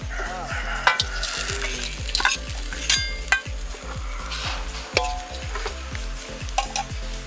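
Tembilu worms frying in oil with turmeric, a steady close sizzle broken by repeated rhythmic stirring scrapes and occasional clinks of a utensil against the pan.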